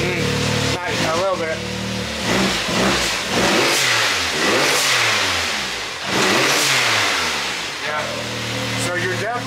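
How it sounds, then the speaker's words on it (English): A turbocharged car engine revs up and down repeatedly, each rise pulling higher before dropping back to idle, loud and close, with people talking over it. "So you're definitely boosting and there's no smoke."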